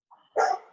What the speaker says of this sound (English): Dogs are just barking away over there.